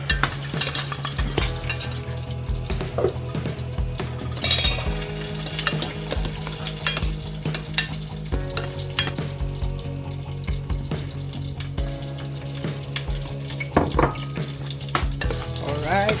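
Fish frying in a pan for sarciado, a steady crackling sizzle with occasional stirring scrapes, close and fairly loud over a low kitchen hum, no voices.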